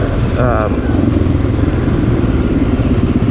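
An XR650L motorcycle with an aftermarket exhaust idles or runs in a steady, deep, close rumble that fills the whole stretch, with a brief voice-like tone early on.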